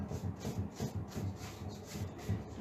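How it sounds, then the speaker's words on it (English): A paintbrush rubs Fusion Mineral Paint in Coal Black into a wooden hutch, giving a close, steady scrubbing rasp in repeated back-and-forth strokes with no talk. "So we're going to take our black and just rub it in"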